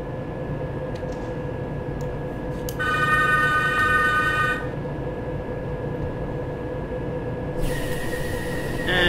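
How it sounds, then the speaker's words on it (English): Bakerloo line Underground train in Train Simulator 2019, a steady rumbling drone with a bright bell-like chime in the middle and a hiss of air near the end, no talking. "Train is ready to depart."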